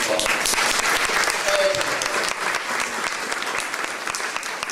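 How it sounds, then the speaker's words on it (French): Audience applause at an art exhibition opening, steady dense clapping from many hands sustained throughout, loud and close, with no voices over it. "je voudrais qu'on les applaudisse"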